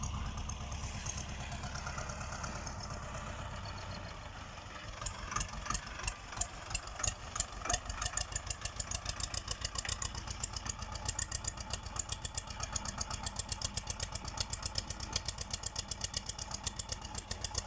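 The engine of a T25 tractor runs steadily at idle. It makes a rough, evenly pulsing chug that grows louder and more distinct after a few seconds and keeps a fast, regular beat to the end.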